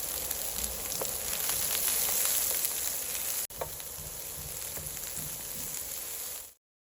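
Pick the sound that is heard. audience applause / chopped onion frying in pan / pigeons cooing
chopped onion frying in pan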